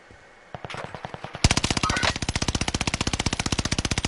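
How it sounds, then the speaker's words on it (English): Automatic gunfire in a video game starts with a few scattered shots, then a loud, steady stream of evenly spaced rapid rounds takes over and hammers on without pause to the end. "Taking fire!"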